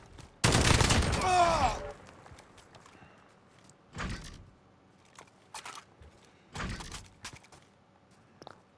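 Bursts of rapid gunfire from an assault rifle in Call of Duty Modern Warfare: one loud sustained burst near the start, then shorter, quieter bursts spaced through the rest, with faint game noise in between.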